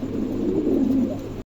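A pair of racer pigeons coos steadily at close range, a low throaty warble rising and falling for over a second before stopping abruptly, with no voices.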